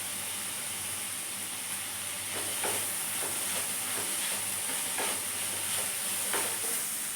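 Vegetables with crumbled paneer sauté in a pan for a veg roll, giving a steady close sizzle and hiss with soft stirring scrapes and occasional clicks, no voices.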